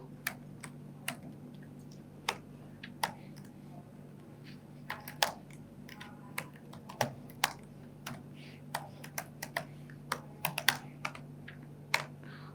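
Quiet, irregular keystrokes on a computer keyboard, tapping in short bursts and single clicks over a faint steady hum, close and alone without talk.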